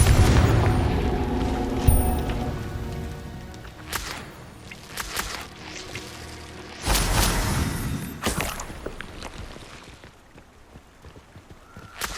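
Confringo blasting curse explosions in Hogwarts Legacy, several loud booming bursts with sharp cracks spaced a few seconds apart, each trailing into rumbling debris and fading, with quieter clatter between them.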